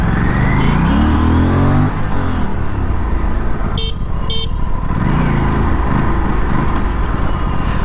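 An Aprilia RS457 motorcycle accelerates hard and close, its engine note rising steadily with a brief high-pitched horn-like toot partway through and loud wind noise throughout.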